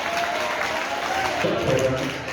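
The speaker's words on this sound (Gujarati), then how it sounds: "તાળી તાળી" Audience applause at a Jain religious discourse and dialogue session in Rapar, a steady wash of clapping hands that fills the whole moment, with voices talking over it.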